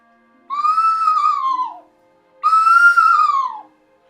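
Two clear whistled calls from a Lamy bird whistle, each a sustained tone sliding downward over about a second, separated by a short pause, imitating a screech owl's call.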